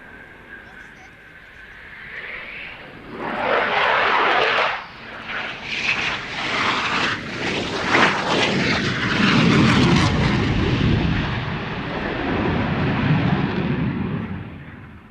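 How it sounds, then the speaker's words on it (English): A Eurofighter Typhoon jet performs a flying display at an air show, its engine roar swelling and rolling loudly overhead while an announcer talks over it. "one of the great things that the Typhoon does is to demonstrate rolling and pitching at the same time"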